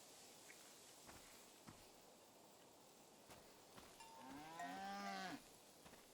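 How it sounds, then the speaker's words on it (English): Cattle in the game Seasons: A Letter to the Future give a single long moo near the end, preceded by soft clip-clop footsteps and light bell-like taps over quiet ambience. "A beautiful cow named Gorp."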